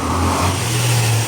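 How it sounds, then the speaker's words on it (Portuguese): Cars and motorbikes pass on a busy city street, a steady roar of engines with one vehicle revving and accelerating past close by, no voices over it. "Muito barulho aqui, passando moto e carro, que aqui essa rua passa bastante, bem movimentada, né?"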